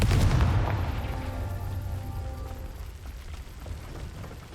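Confringo blasting spell detonating in Hogwarts Legacy, a loud close boom up front that rolls into a long rumbling decay and low mechanical clatter, with no voices.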